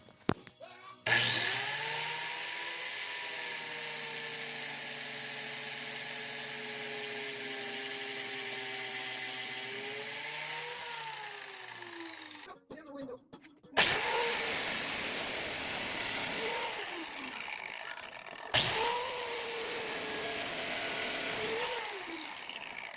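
A biscuit joiner cuts slots in poplar boards for a Viking shield: a loud, steady high-pitched motor whine for about ten seconds, then two shorter bursts as the blade plunges into the wood, close and with no talking.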